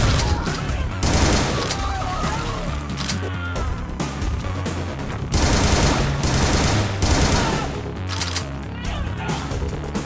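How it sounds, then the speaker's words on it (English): Assault rifle fire in the video game Butcher, dense sustained bursts of rapid gunshots with loud crashing impacts filling the whole stretch, close and intense, with a voice faintly mixed in. "The assault rifle, please."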